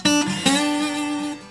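Unmuted delta blues slide guitar rings out in two struck notes that sustain and slide. The open strings behind the slide hum with extra noise, and no one speaks.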